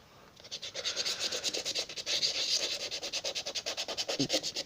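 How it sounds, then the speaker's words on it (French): Rhythmic back-and-forth scraping of P80 sandpaper against a buggy wheel, close up, with quick regular strokes that speed up toward the end. "Moi je ponce actuellement avec du... Je vous donne du P80."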